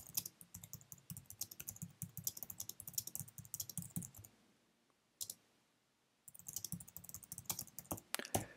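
Someone types a code comment on a computer keyboard, giving rapid, close, crisp key clicks in two bursts separated by a brief near-silent pause with one isolated tap.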